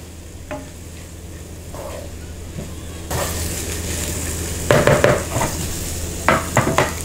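Grated coconut is stirred into a keto goru chikkudu (cluster bean) fry in a pan: a steady sizzle with bursts of spoon scraping and clinking against the metal, close up and with no talk.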